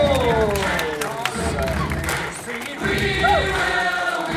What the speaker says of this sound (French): merci votre applaudissement aux joueurs